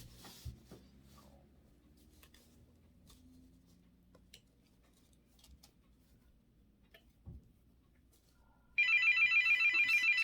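A phone ringtone starts abruptly near the end and repeats loud and close in a quiet indoor room, following a stretch of faint handling noises during a no-sew cushion craft session.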